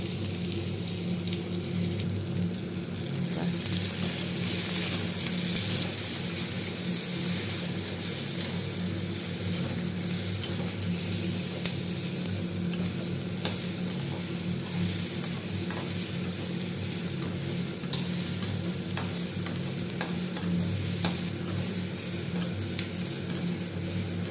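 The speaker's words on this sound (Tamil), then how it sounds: "வெங்காயம் பச்சை மிளகாய் தேங்காய் எல்லாத்தையும் போட்டு ஒட்டு மொத்தமாக வதக்கணும்" Onion, green chillies and coconut sautéing together in a pan for a green chilli chutney, giving a steady close sizzle with frequent scraping stir strokes throughout and no voices.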